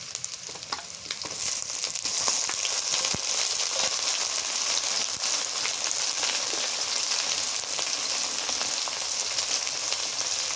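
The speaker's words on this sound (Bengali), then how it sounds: "রসুন বাটা পেঁয়াজ বাটা একসাথে দিই" Garlic paste and onion paste fry together in a hot pan for a stir-fried beef liver dish, giving a steady, dense sizzle with light crackling throughout and no talking.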